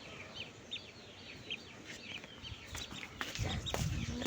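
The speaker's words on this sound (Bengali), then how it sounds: "আমি টাইগার মুরগির বাচ্চা আনছি, ওগুলো দেখে" Tiger chicken chicks at a poultry farm give repeated short, thin chirps and clucks at a moderate distance, with soft farmyard noise beneath and a few louder scuffs near the end.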